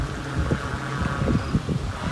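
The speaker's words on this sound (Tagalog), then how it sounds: "Napakalakas ng hangin" Strong monsoon wind buffeting the microphone outdoors during a kite test flight, a constant roaring rush with irregular low gusts and thumps.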